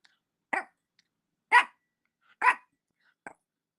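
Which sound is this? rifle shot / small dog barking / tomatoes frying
small dog barking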